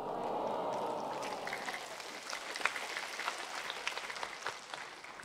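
A church congregation claps. The applause is fairly soft and spread out and continues throughout, with a warm murmur of voices underneath at the start.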